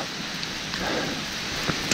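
Rain falling on the trees over a hiking trail on the GR 10 route, a steady close hiss of drops with a few sharper patters on leaves, no one speaking.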